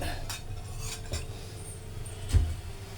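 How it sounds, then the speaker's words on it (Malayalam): Cooked food for Thiruvathira puzhukku is put into a pot in a home kitchen. Soft scraping and metallic clinks of a spoon against cookware come at scattered moments, with one louder knock near the end. "ഇതെല്ലാം ഇങ്ങനെ ഇതിങ്ങോട്ട് ഈ ചെരുവറ്റിലോട്ടിടാം"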